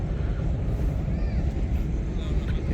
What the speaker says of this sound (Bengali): জেলের যে ট্রলার, এই ট্রলারগুলো এখনও চলাচল করতে পারে।